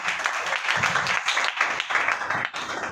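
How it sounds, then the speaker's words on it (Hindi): An audience claps in a sustained, dense round of applause with many hands, steady and fairly loud throughout, and no speech over it. "एक बार भैया के लिए जोरदार तालियां मार सकते हैं।"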